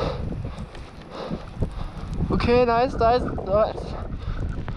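Strong wind in a snowstorm during an outdoor wheelie session, a loud continuous roaring buffet across the microphone with short speech over it.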